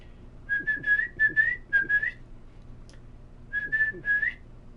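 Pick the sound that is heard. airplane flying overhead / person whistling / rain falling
person whistling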